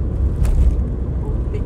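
A heavily loaded car with no suspension give drives along a road on the way to a carp fishery, its engine and road rumble loud and steady throughout, with people talking over it.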